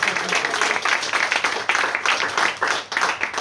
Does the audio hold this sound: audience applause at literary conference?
yes